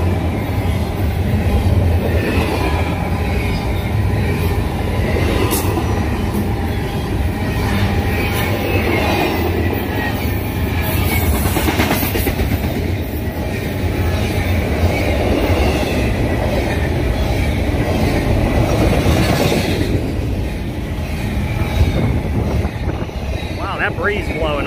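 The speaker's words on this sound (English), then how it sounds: "Norfolk Southern's coming through on the other line." A Norfolk Southern train rolls past on a nearby line in Berea, Ohio, a loud sustained rumble with wheel clatter and brief squeals, while voices talk over it.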